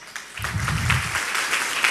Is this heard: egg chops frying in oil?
no